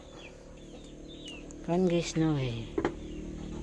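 Chickens on a rural farm give a few loud, close clucks and squawks in a short burst, while a person talks nearby.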